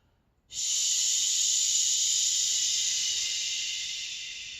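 A steady, forceful shushing exhale held for about four seconds, close and loud, with no talking around it.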